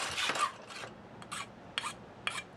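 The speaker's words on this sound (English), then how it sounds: "Here's where I need to make my cut. I'm using the miter box to help guide me" Short rasping saw strokes cut through a bolt held in a miter box, several quick scraping bursts with brief pauses between them, close and fairly quiet.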